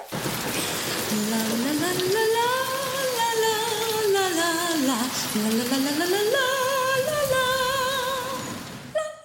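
Rain falls in a steady, dense hiss as a quiz audio clue, while a voice sings a long, rising and falling melody over the downpour.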